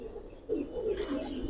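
Giribaz pigeons coo softly inside a loft, low throaty murmurs rising after a quiet start, with a faint steady whine in the background.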